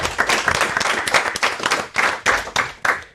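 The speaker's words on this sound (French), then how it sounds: "On va applaudir" A small crowd claps enthusiastically in bursts for a few seconds, close and lively.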